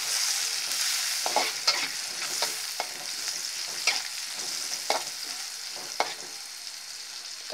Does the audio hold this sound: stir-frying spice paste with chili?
yes